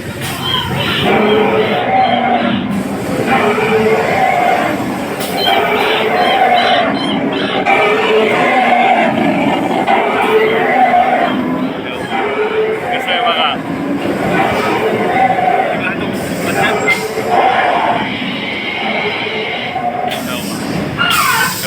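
Riding inside a moving train, with a continuous loud rumble and rattle of the carriages and overlapping voices and crowd chatter throughout.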